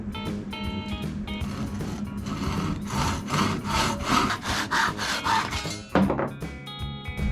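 A handsaw cuts a small piece off a wooden 2x4 with quick, rasping back-and-forth strokes. The sawing is close and continuous, and a light knock near the end sounds like the piece dropping free.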